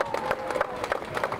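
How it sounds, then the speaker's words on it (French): A crowd at the Hawaiki Nui Va'a outrigger canoe race in Raiatea, French Polynesia, claps and cheers for a paddler. The busy, uneven clapping is heard close up over crowd noise. "On peut encourager, féliciter, applaudir Shelva, mesdames et messieurs"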